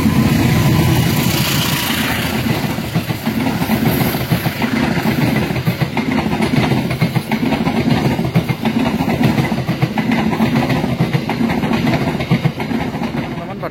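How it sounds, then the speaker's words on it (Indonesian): The Sawunggalih passenger train rolls past at night, heard from close by as a sustained loud rumble with rhythmic clickety-clack of wheels over rail joints lasting throughout. "Kita abadikan dulu yuk kereta api Sawunggali nya lewat."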